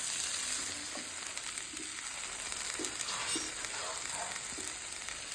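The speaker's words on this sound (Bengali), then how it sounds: "সব কিছু একসাথে মিশিয়ে নিয়ে আমি হাই ফ্লেমে 2 থেকে 3 মিনিট মাংসটা ভাজা ভাজা করে নিয়েছি" Chicken pieces frying on high flame for biryani give a steady, dense sizzle with occasional stirring scrapes, close and continuous without talk.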